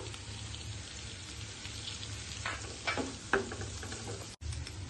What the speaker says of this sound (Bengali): পেঁয়াজটা হালকা করে ভেজে নিয়েছি। এবার 3টে কাঁচা লঙ্কা চিড়ে নিয়েছি, সেটা দিয়ে দিলাম।